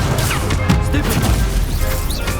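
Spell combat in Hogwarts Legacy, with a Stupefy spell cast amid a dense, continuous wash of magical impacts and crashes that stays loud and busy throughout.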